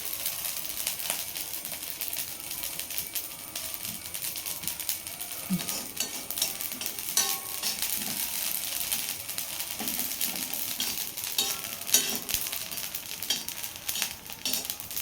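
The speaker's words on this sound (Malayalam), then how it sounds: "അരി വറുത്ത് മൂത്ത് കഴിയുമ്പോൾ ബാക്കി ചേരുവരെ നമുക്ക് വറുക്കാം" Dry, crackly sizzling with light scraping as rice grains roast and are stirred in a hot pan, steady and close throughout with no talking.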